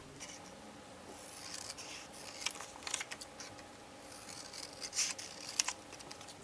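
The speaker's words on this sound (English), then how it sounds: "Let's go ahead and cut these edges off." Scissors snip along the edges of paper for vintage-style collage art, a quiet run of small irregular cuts and rustles close by, with no talk.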